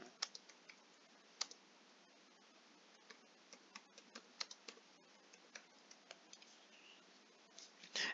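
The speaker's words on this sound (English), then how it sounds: "So I'm going to type in Where the Crawdads Sing." Typing on a computer keyboard: a steady run of light, irregular key clicks, close but quiet, ending in a short flurry of taps.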